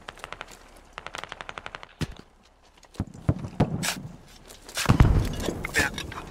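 Gunfire in the military shooter game Squad during a heavy mortar barrage: a rapid burst of machine-gun shots opens, followed by scattered loud single shots and heavy blasts, with a voice talking briefly in between.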